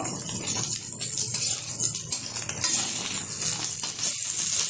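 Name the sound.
folding an egg omelette frying in a pan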